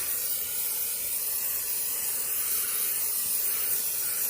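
ArmorAll Furious wet tire shine sprayed from an aerosol can onto a car tire, a steady loud hiss that runs unbroken for about four seconds with no talking.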